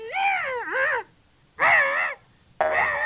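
A man imitates a crow cawing with three loud, nasal, wavering cries, the first split in two, separated by short silences and heard close.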